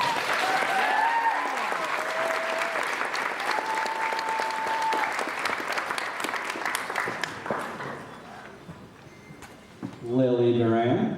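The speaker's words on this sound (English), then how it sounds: "you can give them a round of applause as they're walking up" A school audience applauds continuously at a sixth grade promotion ceremony as students walk up, with voices audible over the clapping, which fades near the end before someone speaks into the microphone.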